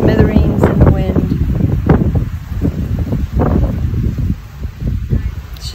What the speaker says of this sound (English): Here I am getting blown to smithereens in the wind.